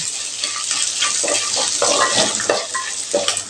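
Dried red chillies and onions sizzle steadily in a pan for banana flower chutney, with an irregular series of soft spatula scrapes and stirs over the constant close frying hiss.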